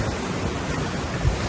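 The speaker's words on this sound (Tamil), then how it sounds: "இங்கே பாருங்க, ரொம்ப இங்கே காற்று புயலாக இருக்கனால கேட்க மாட்டேது" Strong stormy wind buffets the microphone on an island coast while sea waves roar in a dense, continuous wash, loud and unbroken with no talk.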